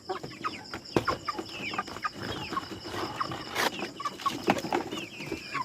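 Several chickens cluck and chatter nearby in irregular bursts, with occasional louder squawks over a soft outdoor background.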